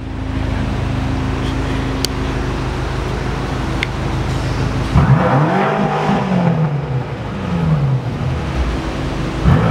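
A BMW M6 Competition Package idles with a steady rumble, then launches hard halfway through, its engine revving up in a rising, sweeping roar that stays loud to the end.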